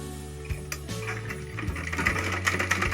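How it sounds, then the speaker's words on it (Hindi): Sewing machine stitching a high-neck blouse, running in short bursts with brief pauses between them and a steady whirring hum. "हम इसकी सिलाई कर लेंगे।"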